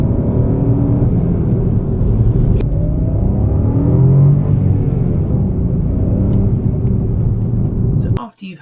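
A car pulls away under heavy throttle, its engine note rising as it accelerates, a loud continuous close-up rumble and whir that runs steadily before cutting off abruptly at the end.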